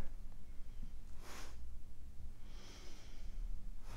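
Heavy breathing during a floor exercise, close and audible, with two distinct breaths, a sharp inhale then a longer exhale, over a low background rumble and no speech.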